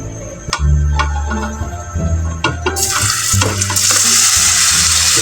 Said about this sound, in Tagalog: nood mo na kayo kung paano ko talutuin tong ham na to